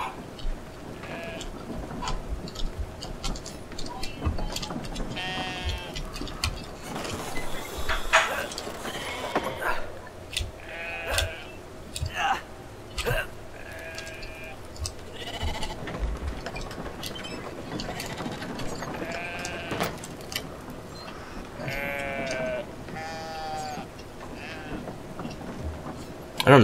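Sheep bleating in the video game Brothers: A Tale of Two Sons, repeated wavering bleats scattered among clicks and mechanical ticks while someone talks over much of it.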